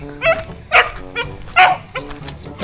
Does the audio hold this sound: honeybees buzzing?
no